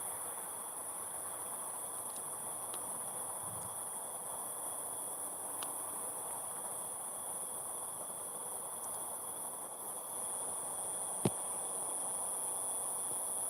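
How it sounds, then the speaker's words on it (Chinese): Insects chirp at night beside a high-speed rail station during a Mid-Autumn moon viewing, a constant high-pitched buzzing drone with faint distant hum and a single sharp tick near the end. "有没有听到那个虫叫的声？"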